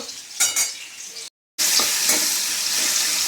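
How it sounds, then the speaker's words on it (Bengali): Panch phoron and dried red chillies frying in oil for a bottle gourd and prawn curry, a bright steady sizzle with stirring scrapes, briefly cut to silence midway before the crackle resumes louder, no talk. "তার জন্য ফোড়নটা করে নিলাম, 5 ফোড়ন আর এই যে শুকনো লঙ্কা। এটা একটু ভাজা হোক।"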